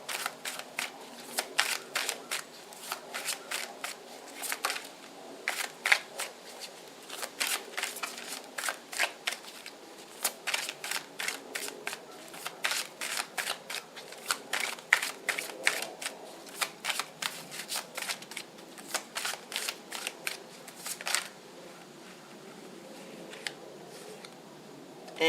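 Tarot cards are shuffled close up in a long series of quick riffling and flicking bursts with short pauses between them, crisp and fairly quiet, with no voice over them.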